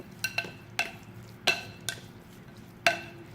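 Fish being mixed with spices and vegetable oil in a bowl, giving a few scattered soft clinks and scrapes spaced out over a few seconds, quiet and close, with no talking.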